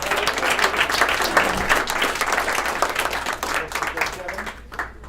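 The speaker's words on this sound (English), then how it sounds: "Let's give him a round of applause." An audience at a sales meeting gives a round of applause for a named team member, with dense steady clapping throughout and voices mixed in.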